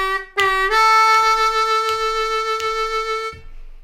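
D harmonica playing a blues lick: a sustained, reedy bent note that slides up, then a steady held tone with slight rhythmic pulses, played solo and close.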